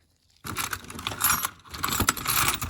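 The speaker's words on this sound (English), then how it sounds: "Keys." A bunch of keys jangles and clinks close up, rummaged out of a toolbox full of hardware in bursts of bright metallic rattling with a brief pause midway.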